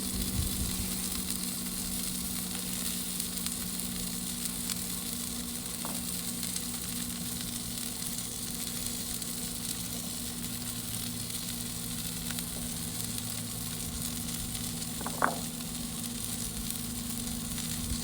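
Burgers and sautéed onions sizzle on a Pit Boss Platinum KC Combo griddle, a steady, soft frying hiss that continues throughout, broken by an occasional faint tap.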